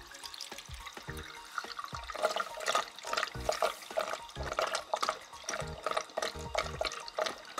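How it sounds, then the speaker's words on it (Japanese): Water drains through a pipe under a freshly cleaned sink, making a continuous, uneven gurgling of close bubbly glugs and pops. "水を流すとひたすらコポコポコポコポ音が鳴るっていう感じですね。"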